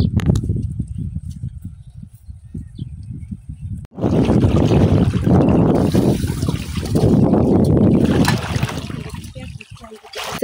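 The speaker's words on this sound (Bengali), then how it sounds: "এখান থেকে কিন্তু ঝর্ণার পানি শব্দ পাওয়া যাইতেছে, শ শ শব্দ হইতেছে" Waterfall water from a hill stream rushes with a steady broadband roar that starts suddenly after a quieter opening with voices, then stays loud and continuous.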